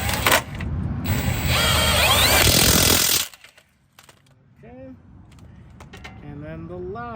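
Ratchet and socket turning control arm bolts on a Toyota Camry, a fast loud clicking ratchet burst for about three seconds, followed by quieter sounds and someone talking.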